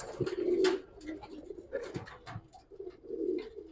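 Silver-coloured Giribaz pigeons, an original Pakistani pair, coo in close, repeated throaty phrases with no voices over them, the soft rolling calls swelling and fading across the few seconds.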